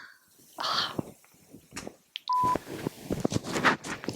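Electronic phone keypad tones sound while a phone is being unlocked, with short beeps scattered among rustling and handling noise, fairly close and moderately loud.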